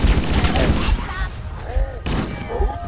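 A grenade goes off in Halo: Combat Evolved amid dense battle noise. Heavy booming blasts and thuds come loud and close over continuous gunfire and alien chatter, with one sharp burst near the middle.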